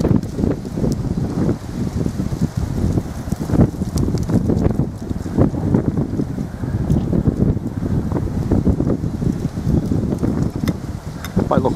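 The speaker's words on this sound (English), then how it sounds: "Wind's getting up." Strong wind blows outdoors near Llyn Caer-Euni in Wales, a loud continuous buffeting roar with gusty microphone rumble and no clear talking.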